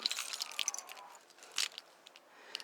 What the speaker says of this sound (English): Carrying the car keys in my pocket.